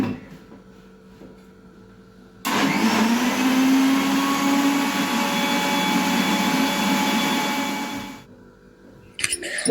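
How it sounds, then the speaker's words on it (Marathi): A kitchen mixer churns cream with water into butter, running as a loud steady whir for about six seconds before stopping, with quieter handling sounds before and after. "आता मी मिक्सरमध्ये लोणी काढणार आहे"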